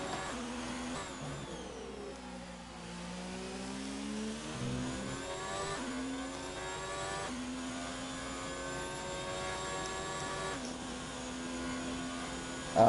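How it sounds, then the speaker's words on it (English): A V6 Formula One car from a racing video game screams around the Singapore GP circuit, with repeated rising whines of acceleration broken by sharp downshifts, a steady high-pitched engine drone carrying on alone without voices. "let's listen to the petrol-filled noise of a V6 Formula One car"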